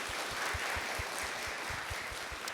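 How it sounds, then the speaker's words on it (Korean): An audience at a talk applauds steadily with continuous, even clapping throughout, a dense wash of many hands at moderate distance with no voices over it. "박수 한번 부탁드리겠습니다."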